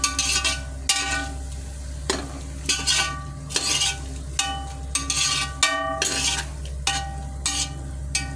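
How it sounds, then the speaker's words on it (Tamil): Masala for mutton biryani fries in a pan while a metal spoon stirs it, the steady sizzle punctuated by repeated sharp clinks of the spoon against the pan, close and prominent without any talk. "மசாலா கொஞ்சம் நேரம் நல்லா வதங்கட்டும்."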